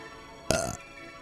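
Kirby lets out a single short, loud belch in the video game Kirby 64: The Crystal Shards, bursting out alone against faint game background and cutting off sharply.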